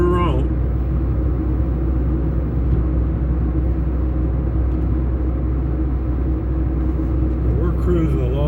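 Car cruising at 45 miles an hour, a steady low road rumble and engine drone heard from inside the cabin, continuous and fairly loud throughout.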